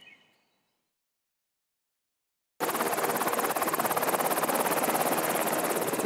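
A military helicopter carrying a Special Forces general in a war zone starts up abruptly after near silence, its loud, steady rotor chop and engine roar filling the rest of the clip up close.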